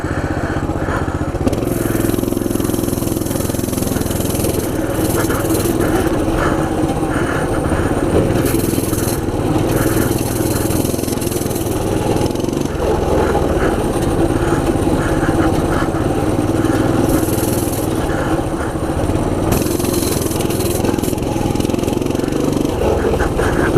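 A Coleman CT200U EX mini bike engine runs hard and loud throughout while being ridden, a steady buzzing mechanical drone with small fluctuations and rattling, continuous and close.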